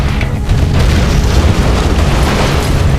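Loud, continuous rumbling explosions and booms as missiles are shot down by stinger sites in the C&C Generals real-time strategy game, a dense low roar lasting throughout with no talking.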